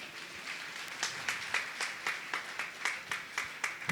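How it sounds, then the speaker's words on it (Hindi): An audience at a spiritual question-and-answer gathering breaks into rhythmic applause, many hands clapping together in a steady pulsing beat roughly every quarter second, filling the hall for four seconds with no talk over it. "उनके सम्मान में जोरदार तालियां।"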